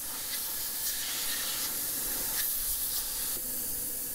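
A 3M Accuspray paint spray gun blows leftover thinners out of its cap with compressed air, a steady loud hiss with a few brief bursts, heard alone.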